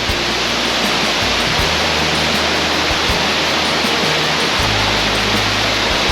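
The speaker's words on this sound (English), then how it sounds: "It's a waterfall." A waterfall at Ben Lomond, Tasmania, roars in a steady, dense rush of falling water, loud and close, with no voices.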